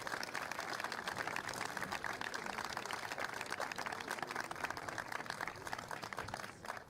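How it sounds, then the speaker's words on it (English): Steady, fairly faint clapping from a school open-house audience fills the room for several seconds as a continuous round of applause, tapering off at the end. "Give him another round of applause."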